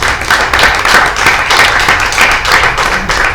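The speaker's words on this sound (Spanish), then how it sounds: "Denle un aplauso al Señor" A church congregation claps loudly and steadily for several seconds, a dense, even wash of applause with no speech over it.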